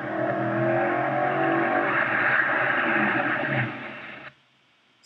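A car accelerates hard in a brake test, its loud engine and road noise holding steady for about four seconds before cutting off abruptly into near silence.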